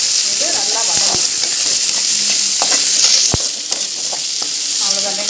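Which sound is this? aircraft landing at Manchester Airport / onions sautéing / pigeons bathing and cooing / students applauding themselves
onions sautéing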